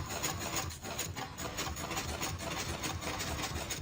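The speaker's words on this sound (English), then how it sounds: "that's kind of an obnoxious noise, but aside from that, that's a little glitch with sticky pistons" A Minecraft sticky piston glitching under a one-tick redstone pulse, giving a dense, steady, rasping mechanical buzz that stays loud and continuous with a slight rapid flutter throughout, no voices.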